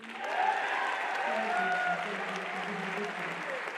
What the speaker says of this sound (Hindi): क्या हम लोग थोड़ी सी तालियां भी बजा सकते हैं?